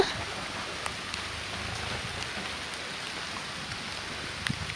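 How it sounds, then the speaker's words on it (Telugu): Heavy rain pours at night in a dense, steady hiss with faint scattered drop taps, constant and moderately loud. "చూడండి వాన చూడండి ఎలా పడుతుందో"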